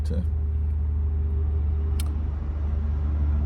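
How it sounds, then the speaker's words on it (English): A constant low rumble of trucks and traffic comes from a nearby highway at night, steady and droning with no break for the whole stretch. "it's going to be a noisy night sleeping here by the highway"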